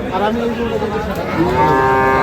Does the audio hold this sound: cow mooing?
yes